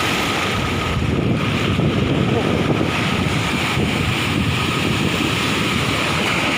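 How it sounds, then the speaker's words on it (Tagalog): Big ocean waves surging around a boat at a coral reef, a loud, constant rush of surf mixed with heavy wind buffeting the microphone. "Ang lalaki ng alon."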